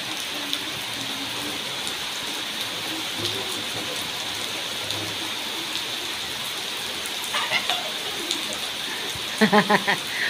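First rain of the season falling on a village, a steady, even patter of drops on surfaces filling the scene, with a few closer splashes and knocks near the end.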